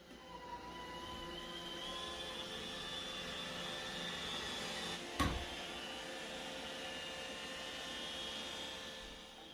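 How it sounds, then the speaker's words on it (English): An iRobot Roomba J7 robot vacuum cleaning a kitchen gives a steady, fairly faint motor whine with a low hum, broken by one brief knock midway. "I'll tell Roomba J7 to vacuum the kitchen"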